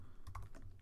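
Keys on a computer keyboard clack in a quick, faint burst of a few strokes close to the microphone.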